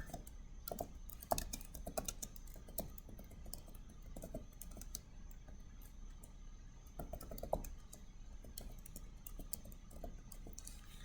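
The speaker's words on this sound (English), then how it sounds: "you're going to type each inquiry that you have on your credit report" Someone types on a computer keyboard with quick, uneven runs of soft key clicks and brief pauses, close and fairly quiet, with no talking.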